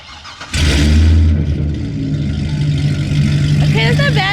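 A car engine at a car meet starts with a sudden roar and settles into a loud, rough, low idle with a short rev, close to the microphone, while people talk over it.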